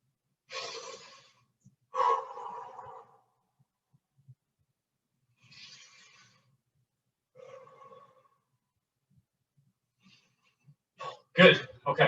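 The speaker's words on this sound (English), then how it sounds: "we're just going to do 2 deep breaths" Two deep breaths taken during a rest break in a functional training workout class, each a slow audible inhale and exhale spaced a few seconds apart, with a voice speaking between and after them.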